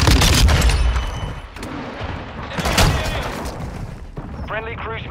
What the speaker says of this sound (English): Wow, another fucking RPG.